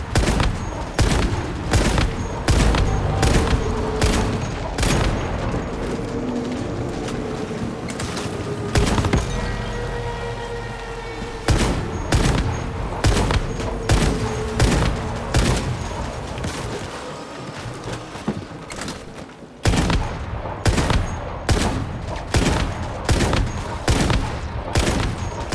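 Base defense turrets in the Once Human video game fire rapid, sustained bursts of gunfire that repeat over and over with brief gaps, loud and close, with heavier booms mixed in.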